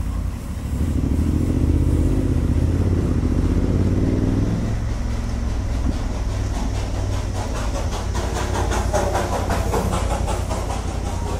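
A BMW F900GSA motorcycle rides through the hills of West Sikkim, India, with a loud, steady engine drone and wind roar throughout and no talk.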